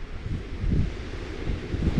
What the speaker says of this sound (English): Wind's picking up a little bit actually.